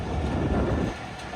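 Bolan Mail train rumbling along the track near Khanaut railway station through desert sand dunes, a steady close-up running roar with rail clatter that drops slightly in level toward the end.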